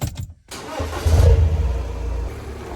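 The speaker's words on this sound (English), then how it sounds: "The first thing I need to do is warm up the car." Audi A4 B8 engine starting: a brief crank, then the motor catches with a loud low rumble and a short rev before settling into a steady idle while it warms up.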